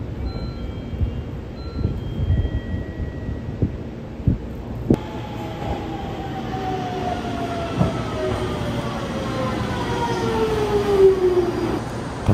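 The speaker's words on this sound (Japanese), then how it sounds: "ホームに降りると特急富士川8号がやってまいりました。" The Fujikawa limited express train on the Minobu Line rumbles in and its pitch slowly drops as it rolls into the station platform, with steady mechanical noise and a faint whine growing louder.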